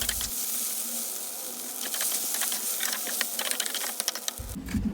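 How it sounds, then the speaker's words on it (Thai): Noodles and vegetables are stir-fried for shrimp pad see ew with a busy, close sizzle. Rapid clicks of the spatula against the pan run throughout, and there is no talking. "ใส่ผักเสร็จแล้วก็ผัดให้สุกอะค่ะ"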